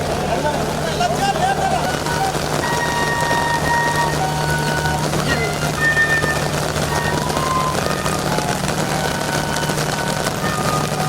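Steady rain patters over an outdoor public rally, a continuous hiss of drops under a constant low hum, with a voice speaking over it throughout.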